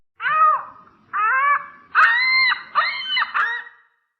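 An ostrich makes five wailing, harmonic calls in a row, separated by brief pauses. The last three come closer together and are slightly rougher. The calls are fairly loud and near, against silence.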